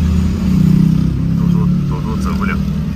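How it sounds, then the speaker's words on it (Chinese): Cars stuck in a traffic jam in the capital, a close, steady engine drone and low road rumble with a faint rising whine, while people talk over it. "看看首都啊，除了堵车就是堵车"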